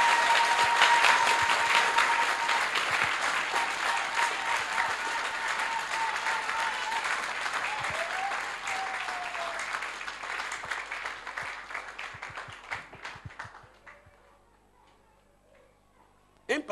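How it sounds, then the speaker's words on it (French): A church congregation claps together for about thirteen seconds, a dense, steady roar of hands that slowly thins out and fades into near silence, with a voice faintly heard underneath. "on va applaudir pour le Seigneur"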